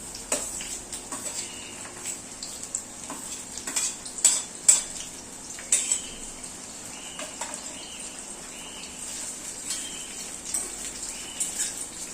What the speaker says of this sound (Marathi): इथे आपल्याला कांदा छान भाजून घ्यायचा